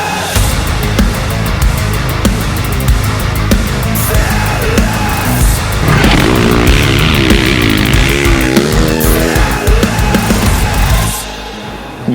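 A dirt bike racing nearby, its engine loud and continuous with revving and shifting pitch as it accelerates, a harsh buzzing snarl that holds throughout and eases off slightly at the very end.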